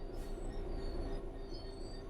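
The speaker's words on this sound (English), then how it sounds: "Bring this train to a complete stop by holding the brake control in the apply state" Diesel train in Train Sim World 5 braking toward a stop, a steady rumbling roll with a faint high wheel squeal held evenly throughout.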